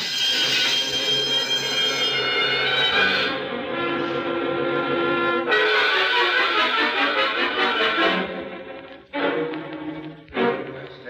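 A store alarm rings without a break in a radio drama scene after someone steps on it. It is loud and harsh, with the tone shifting partway through, and it cuts off near the end.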